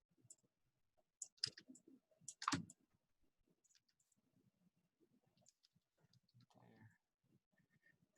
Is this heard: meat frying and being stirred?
no